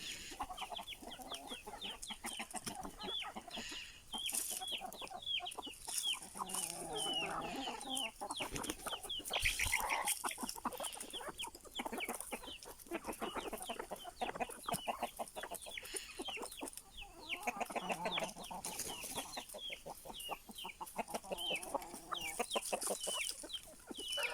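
A flock of chickens clucks and chatters continuously, many birds calling over one another at close range.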